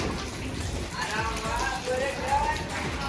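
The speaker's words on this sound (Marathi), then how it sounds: "इकडे सगळं पाऊस चालू आहे" Continuous patter of rain falling on surfaces in Chhatrapati Sambhajinagar, with a person speaking over it and faint background noise.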